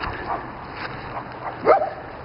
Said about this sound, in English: these are Great Pyrenees.